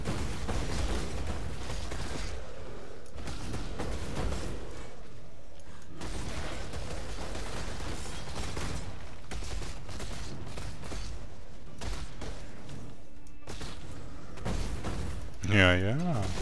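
Path of Exile game combat with dense, continuous explosions and crackling bursts, sustained and loud throughout, mixed with someone talking over the action.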